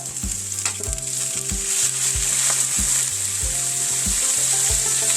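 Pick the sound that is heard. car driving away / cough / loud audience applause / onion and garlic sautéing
onion and garlic sautéing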